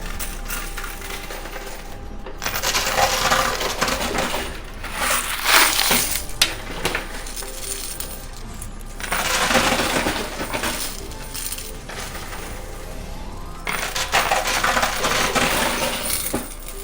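Quarters falling in a high-limit coin pusher machine, bursts of clinking metal coins cascading and rattling against each other in several waves, with quieter mechanical hum between the drops.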